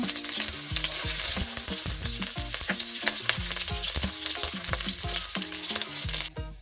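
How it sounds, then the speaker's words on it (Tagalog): Garlic sizzles and crackles loudly in hot cooking oil in a pan for a home-style sautéed vegetable and pork dish, with dense continuous frying and rhythmic stirring scrapes. "mainit ng ating mantika. Una natin ilalagay ang ating bawang."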